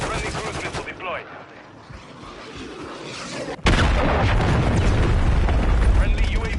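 A cruise missile strike in a Call of Duty game: a rumbling build of battle noise, a brief cut, then a sudden heavy explosion that sustains as a loud roaring wash, with voices mixed in.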